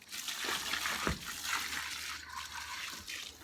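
Water splashes and gushes steadily as a couple of buckets are poured out over a treehouse in a broad stream, with a brief heavier slosh partway through.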